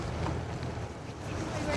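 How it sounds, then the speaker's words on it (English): Gusting wind with blowing snow roars steadily outdoors in Salt Lake City during the 2002 Winter Olympics, a dense rushing noise close to the microphone. "With snow blowing, winds gusting"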